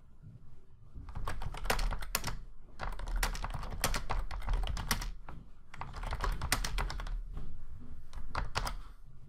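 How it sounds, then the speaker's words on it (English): Steady typing on a computer keyboard while entering a question into a Google Form, with clustered runs of crisp key clicks separated by brief pauses, close and fairly quiet, with no talking. "we can type in the question we want to ask."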